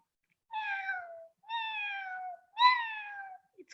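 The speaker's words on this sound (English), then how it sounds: "That's a cat." A domestic cat meows three times in a row, each call drawn out and falling in pitch, close and clear with short pauses between and no other sound.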